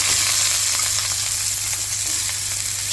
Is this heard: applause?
no